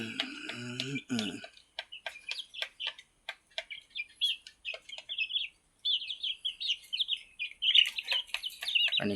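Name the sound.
chicks chirping while eating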